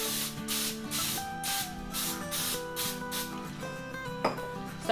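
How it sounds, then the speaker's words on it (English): Several quick hissing bursts of cooking spray from an aerosol can, short and close, over soft background music. "We're just gonna give this a quick spray of cooking spray."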